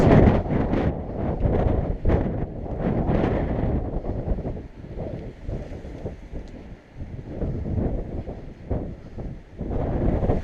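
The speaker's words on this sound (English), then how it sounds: "it's such a strong wind" Strong wind buffets the microphone while someone cycles north-east along the Danube route, a loud, gusty roar that rises and falls in heavy rumbling surges the whole way through, with no other sound standing out.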